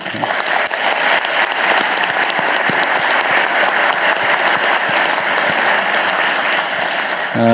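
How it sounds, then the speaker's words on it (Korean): Dense, loud, sustained applause from a large crowd at a town hall meeting in Chungbuk, South Korea, a continuous wash of many hands clapping that holds steady throughout. "우리 박수 한번 보내드리세요"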